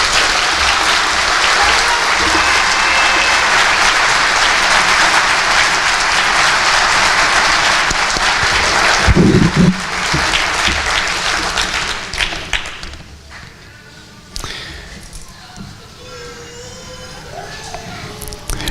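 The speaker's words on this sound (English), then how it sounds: "let's give another round of applause to congratulate the class of 25 TAC 1." Sustained applause from a large audience at a school commencement ceremony, loud and dense for about twelve seconds, then thinning into scattered claps and quieter crowd noise as it dies down.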